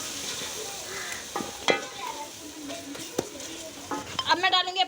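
Turmeric, red chilli powder and salt stirred into hot oil in a pan, giving a close sizzle broken by scraping spoon strokes and a few clinks of metal, with a brief burst of louder frying near the end.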